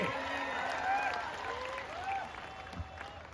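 Crowd applause at an open-air village wrestling ground in Chandur, a dense continuous clapping bed with a voice talking over it through a loudspeaker.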